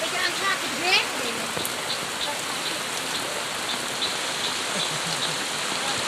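Steady rain falling over a rice field, a dense, even hiss of drops running throughout with faint bird-like chirps near the start.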